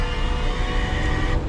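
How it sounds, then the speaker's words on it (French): Steady engine and road rumble from inside a moving car, a constant droning hum without speech. "Avec le bruit de bagnole."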